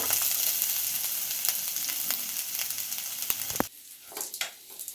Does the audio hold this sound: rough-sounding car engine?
no